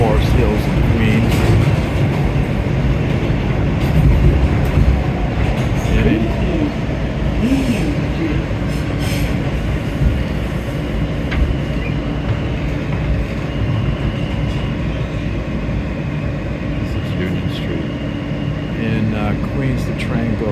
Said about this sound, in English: This train eventually will go all the way out to Forest Hills and Queens.